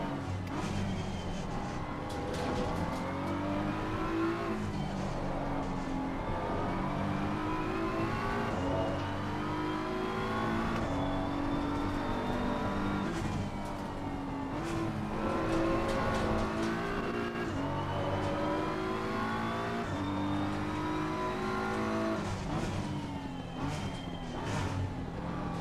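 A race car engine in Assetto Corsa Competizione revs continuously, climbing through the gears with repeated rises and drops in pitch, up close and steady throughout the lap.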